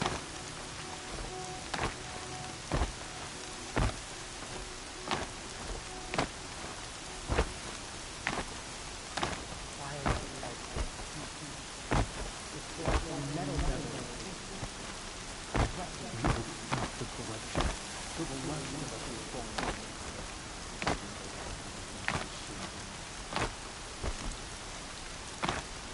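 Heavy rain and thunder in the video game Horizon Zero Dawn: a constant wash of downpour broken by repeated sharp cracks and rumbles at fairly regular intervals.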